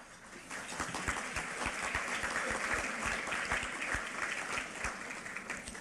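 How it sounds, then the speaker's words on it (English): Studio audience at a talk show gives sustained applause, a thick patter of many hands with some distinct nearby claps standing out, continuous and moderately loud. "I was going to ask you to delay your applause until the next statement"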